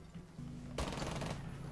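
Automatic gunfire in the video game Rainbow Six Siege, a loud sustained burst of rapid shots starting partway through and lasting about half a second over a steady game background hum.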